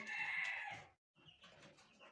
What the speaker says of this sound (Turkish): bu arada horozlar da başladılar.